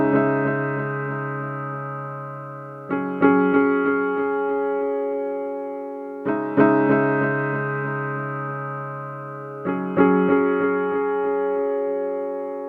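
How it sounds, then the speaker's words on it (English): Piano and Rhodes electric piano with vintage delay play layered, sustained chords together, with a new chord struck roughly every three seconds and each one ringing out smoothly. "now the piano and the Rhodes together sound like this"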